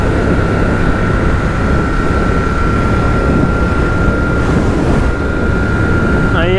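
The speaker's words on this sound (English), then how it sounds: "definitely a bit of wind" Steady, loud roar of wind rushing past a rider on a motorcycle, a constant broadband buffet with a faint engine whine running under it throughout.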